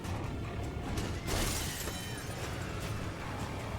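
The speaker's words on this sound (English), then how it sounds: "I love the sound of shattered glass in the morning." In Poppy Playtime Chapter 5, glass breaks with a bright, noisy crash that stands out briefly against continuous game ambience and then settles back into a steady hiss.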